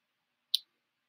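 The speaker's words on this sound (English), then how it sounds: "I'm going to click add to cart" A single sharp computer mouse click in an otherwise silent moment, brief and close.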